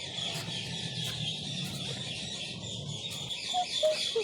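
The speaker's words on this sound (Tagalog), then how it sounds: "Ang daming ibon." Chickens clucking outdoors among many birds, a soft, fairly distant fowl chatter with a few brief squawks near the end, steady and unhurried.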